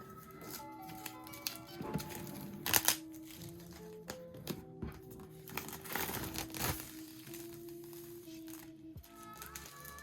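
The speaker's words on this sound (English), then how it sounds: "let's pull this tab here" Tear tab pulled on an Apple iPad Pro 2021 12.9-inch box, close crinkling and tearing of paper and cardboard in irregular bursts, with a sharper rip near the middle and quieter rustling around it.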